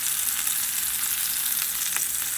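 A hot pan of pork chops gives off a dense, constant sizzle with small crackles, loud and close, and nothing else is heard.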